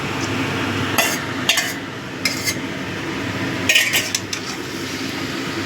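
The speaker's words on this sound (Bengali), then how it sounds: "সব মিশিয়ে নিচ্ছি।" Metal spoon scraping and clinking against a pan while mixed vegetables and cauliflower are stirred, several sharp knocks over a low steady sizzle, with no talking.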